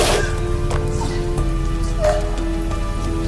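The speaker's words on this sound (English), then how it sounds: "With a thunderclap, it was raining heavily in the sky." Heavy rain pours steadily onto a hard surface, a dense continuous patter with scattered louder drops, and no clear thunder rumble stands out.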